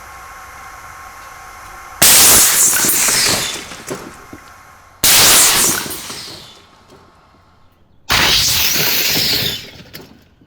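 A homemade shockwave cannon fires at a ballistic dummy head, giving three loud, sudden blasts a few seconds apart, each followed by a long roaring hiss and scattering debris that slowly fade.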